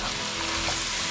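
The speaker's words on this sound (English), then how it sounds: "we started browning up our sausage" Sausage browning in a pan for pizza soup, a dense, steady sizzle filling the short moment, close and even with no talking.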